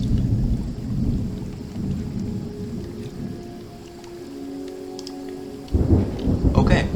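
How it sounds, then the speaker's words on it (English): Rolling thunder over steady rain in the video game Terra Nil, a loud low rumble that fades mid-clip and then swells again with a close crack of thunder near the end, with no voices. "Nice thunder noises."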